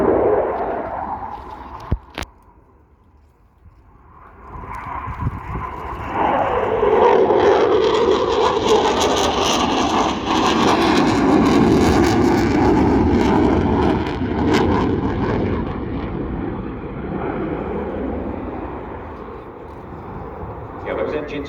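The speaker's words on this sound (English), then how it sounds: "the power of the two Eurojet EJ200 turbofan engines on their afterburner" A jet's two Eurojet EJ200 turbofan engines on afterburner at the RIAT airshow swell into a loud, sustained roar and then slowly fade, with someone talking over it.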